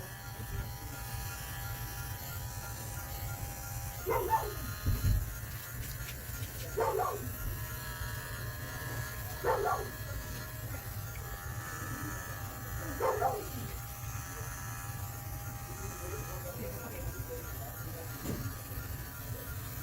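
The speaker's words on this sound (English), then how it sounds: "we're going to also shave lateral to the flank folds so that we have a nice even square" Electric clippers shave a dog's abdomen out to the flank folds during a veterinary surgical prep, a steady low buzz running throughout with brief louder surges each time the blades pass through the hair, while a person talks.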